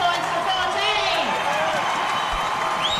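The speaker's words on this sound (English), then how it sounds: "listen to that crowd welcoming back Terrace into the grandstand" Grandstand crowd at a schoolboy rugby match cheering and applauding as the team returns, a steady broad roar under continuous commentary.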